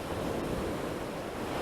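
Waves break and the white foam washes back out to sea in a steady, enveloping surf roar, close and continuous, with light wind noise and no talk.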